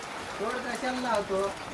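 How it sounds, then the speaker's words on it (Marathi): Heavy rain pours steadily outside a village house, a continuous close hiss beneath a person talking. "आज एवढा पाऊस पडलाय"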